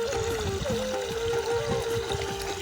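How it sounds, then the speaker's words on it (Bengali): Irrigation water runs steadily across a field with a faint, continuous trickling flow and a persistent steady tone. "জলের শব্দ প্রচণ্ড হচ্ছে"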